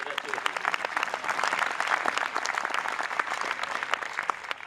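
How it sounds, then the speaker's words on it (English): An audience applauds at a military band history event, producing dense, lively clapping with individual sharp claps standing out, steady throughout at moderate loudness. "Yeah, you can applaud for that"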